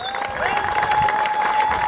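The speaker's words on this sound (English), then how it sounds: "give a loud round of applause to show our excitement for today" A crowd at a flag raising at Clifton City Hall claps and cheers steadily, with a sustained whistle-like tone running through the noise.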